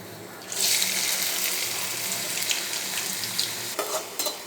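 A small piece of potato drops into hot deep-fry oil while French fries are being made, setting off a sudden bright sizzle that stays strong and steady, with a few small pops.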